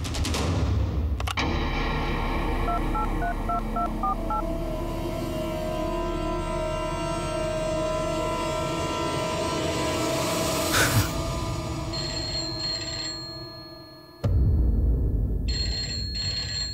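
A telephone in a television drama scene is dialed with a quick run of tones, then rings with a repeated electronic trill over a steady background hum.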